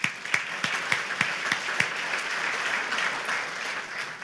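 Audience applause at a New Year's banquet, a crowd clapping in a room with a few sharp, louder claps near the start that settle into a steady, moderately loud wash of clapping.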